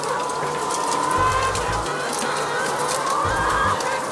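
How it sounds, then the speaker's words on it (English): Laying hens clucking inside a colony house, a steady dense chorus of many birds murmuring and clucking at once, with continuous background hum. "take a little bit of time and listen to the birds"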